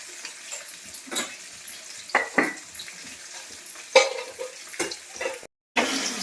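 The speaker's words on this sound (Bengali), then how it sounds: "এখানে মাছগুলো ভাজা হয়ে গেল" Pieces of katla fish fry in a pan with turmeric and salt, a faint sizzle broken by several scraping stirs and metallic clinks of a spatula against the pan.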